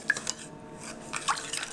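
A spoon stirs and clinks through teriyaki sauce ingredients, mirin, sesame oil and water, mixed together in a bowl, with a few light scraping taps and soft liquid swishes, close and brief, no talking.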